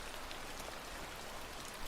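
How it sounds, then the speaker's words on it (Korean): Rain drums steadily on a car roof and windows, heard from inside the car as a dense, even hiss with no voices. "차 안에서 듣는 빗소리"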